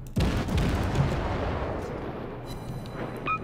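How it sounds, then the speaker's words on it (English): Heavy naval gunfire in the World of Warships game, a deep booming salvo that rolls and fades over a few seconds, loud and close with no talk. "We are getting shot at from behind."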